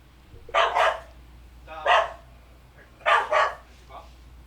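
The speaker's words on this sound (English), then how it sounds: "Pausing for dog." A dog barks in several bursts, a double bark, a single bark, then another double with a softer yip after it, fairly close and loud against a quiet indoor background.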